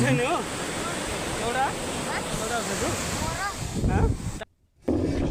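Sea waves wash onto the beach at Puri in a continuous loud roar and surge, with voices talking over the surf throughout before a brief drop to near silence.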